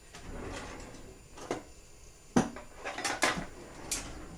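Metal tongs clink and clatter at irregular moments, a few sharp taps and scrapes against a quiet kitchen background while meatballs are handled.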